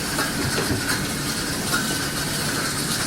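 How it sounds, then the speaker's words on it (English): A cotton gin runs steadily, pulling cotton through a wooden roller with a continuous mechanical rattle and rhythmic clatter, close and moderately loud throughout. "This is ginning the cotton."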